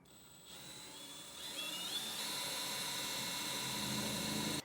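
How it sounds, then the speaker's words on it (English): A power drill boring holes in a metal frame rail of a 2014 Ford truck for a fifth-wheel hitch whines steadily, its pitch rising as it spins up, then holds a continuous high-pitched grinding buzz until it cuts off. "now we can drill our holes"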